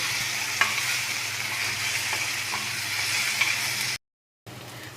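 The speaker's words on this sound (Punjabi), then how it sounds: "ਇਹ ਤੜਕੇ ਨੂੰ ਆਪਾਂ ਚੰਗੀ ਤਰੀਕੇ ਨਾਲ ਫਰਾਈ ਕਰਨਾਗਾ" Tempering for moong and masoor dal frying on low gas, a loud continuous sizzle with faint stirring clicks, cut by a brief gap of silence before resuming.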